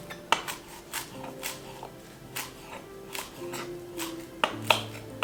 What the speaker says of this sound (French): Je vais découper. Je vais hacher.